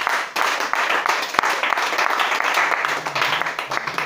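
A church congregation applauds at a worship service, with loud, dense clapping that carries steadily throughout, and voices are heard faintly beneath it.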